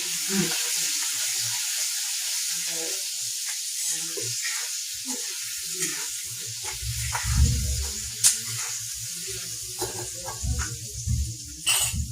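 Peanuts and lentils sautéing in a pan, a steady broad sizzle with scattered crackles and a few low scraping stir sounds, close and moderately loud, no talking.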